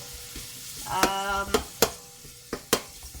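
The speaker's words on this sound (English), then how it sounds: "the onion generally needs to cook down or sweat down until they're golden brown" Onions and chili frying in a pan for an Indian chicken curry, a constant close sizzle punctuated by several sharp clanks of a utensil stirring against the pan.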